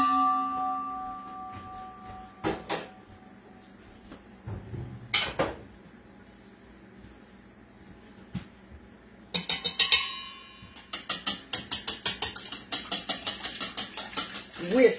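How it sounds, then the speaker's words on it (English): Whisk beating cooking oil and milk together for waffle batter in a home kitchen, a rapid run of close metallic clinks against the bowl in the final seconds, after scattered clatter of dishes and utensils. "Whisk that together."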